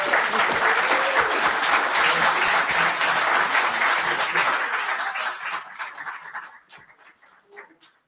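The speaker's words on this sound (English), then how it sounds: "let's give them a round of applause, ladies and gentlemen" Audience applause at the DroidCon 2025 droid-building conference after a talk, a dense loud burst of clapping that thins out and fades over the last few seconds into scattered claps.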